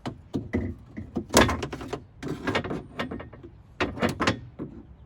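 A window regulator assembly is worked out of a Fiat 500 car door, giving a series of sharp metallic clunks, scrapes and rattles in irregular bursts, close and moderately loud, with no talk.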